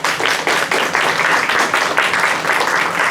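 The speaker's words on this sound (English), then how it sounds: "Let's give them a round of applause." Sustained audience applause fills a school board meeting, a dense steady wash of many hands clapping at close range for the whole stretch without a break.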